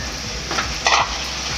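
Large chunks from three big tomatoes are stirred into onions frying in a pan for Hyderabadi paneer masala. A steady close sizzle runs throughout, broken by a couple of sharper scraping stirs, with no talking.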